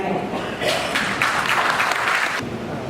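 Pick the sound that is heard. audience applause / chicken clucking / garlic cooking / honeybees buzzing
audience applause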